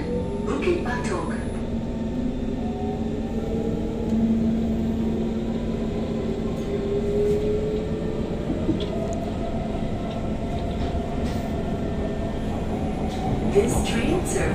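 Interior of an SMRT KHI C151 metro train running from Choa Chu Kang to Bukit Batok, a continuous loud rumble and rising motor whine with faint squeals near the end as friction brakes engage.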